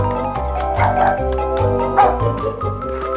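A dog gives a few short, loud barks and yips close by, over a quiet rhythmic musical backing.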